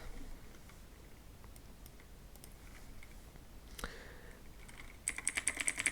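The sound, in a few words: typing on a computer keyboard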